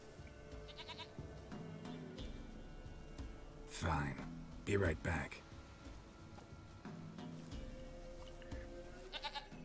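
A goat in a video game lets out a couple of loud, brief bleats in quick succession over quiet ambient game sound, with a character's voice speaking briefly nearby.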